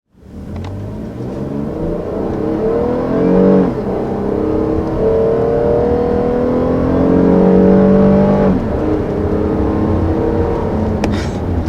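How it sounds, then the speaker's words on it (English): A 2020 Toyota Highlander's naturally aspirated V6 revs and pulls hard from inside the cabin, the drone climbing in pitch through several gear shifts, loud and close. "first taking off here in this all-new Highlander"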